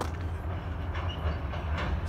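A train rolls along the tracks with a low, steady rumble and faint creaks and squeals over it, heard from some distance and fairly quiet, with no voices.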